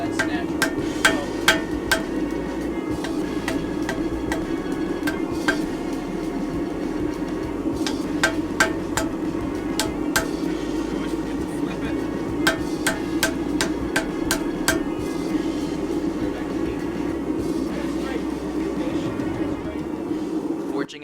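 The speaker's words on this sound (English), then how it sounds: "Forging out the heel of the blade is one of the most difficult parts of this entire process, and Nick does a great job here." Hammer blows on a steel knife blade being forged, heel section shaped on an anvil, striking in irregular bursts of sharp metallic clangs under a steady droning background.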